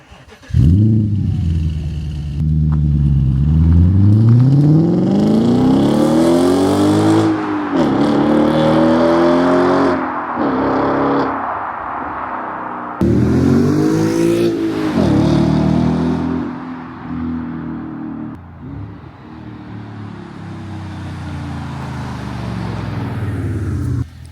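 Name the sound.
Audi S5 V8 exhaust revving and drive-bys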